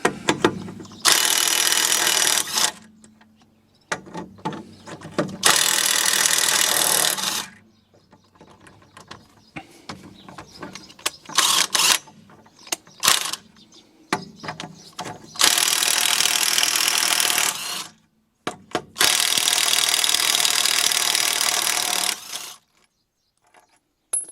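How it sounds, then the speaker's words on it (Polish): Pneumatic impact wrench loosening car wheel bolts, with several loud sustained bursts of rapid hammering separated by quieter pauses with faint clinks and handling noise, close by and with no talk. "Pierwsze koło odkręcone."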